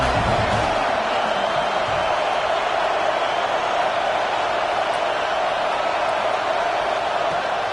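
A stadium crowd in a Madden football video game keeps up a steady, dense roar of cheering, broad and sustained with no clear breaks.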